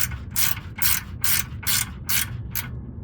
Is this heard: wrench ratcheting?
yes